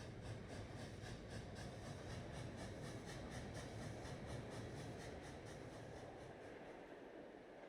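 Steady rumbling of a train running in the Captain of Industry video game, with a continuous low roll and faint rhythmic clacking, held at an even level throughout with no talk.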